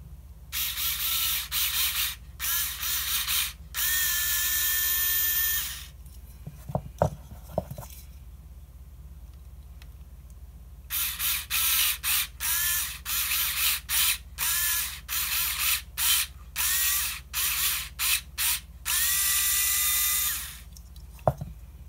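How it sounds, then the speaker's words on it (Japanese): A small powered screwdriver drives a screw into a zinc die-cast part to cut threads, from a Lamborghini Miura scale-model kit's air cleaner assembly; several whirring bursts stop and start, with faint clicking in a quiet pause. "これが亜鉛ダイキャストなんで、一度ですね、ネジ山を作っておきます"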